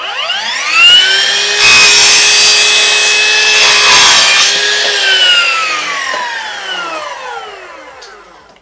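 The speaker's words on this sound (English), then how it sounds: "So I'm gonna start with my first angled cut to get started." A saw rips through a trim board for recessed panel wainscoting, making an angled cut: a loud, close rising whine and grinding of blade in wood lasting several seconds before spinning down.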